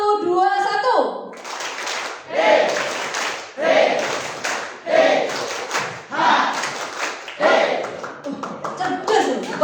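A youth church service crowd claps in a counted pattern, groups of sharp claps separated by short pauses and repeated in a steady cycle, with a leader's voice calling the count between the bursts.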